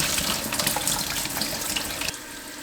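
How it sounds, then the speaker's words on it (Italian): Tap water runs steadily over a salt cod fillet being rinsed in a kitchen sink, a loud continuous splashing close by that drops off briefly near the end. "Prima cosa lo sciacquo bene in modo da togliere il sale."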